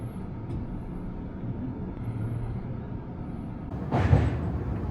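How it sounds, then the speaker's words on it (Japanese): A Tobu Spacia X express train rumbles steadily at low pitch as it pulls out of Asakusa Station, with a brief louder whoosh rising near the end. "浅草駅の軽装を背にスペーシア X がゆっくりと動き出しました。"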